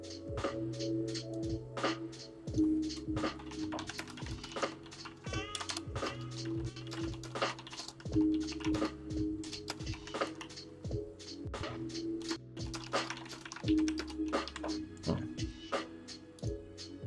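Computer keyboard typing fills the whole stretch during a live model-kit building stream, with rapid irregular clicks and clusters of keystrokes, fairly close, over a low steady hum and a few faint vocal tones.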